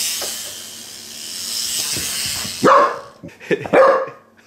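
A dog gives a few sharp barks close by, two bursts separated by a brief pause, after a quiet hissy background.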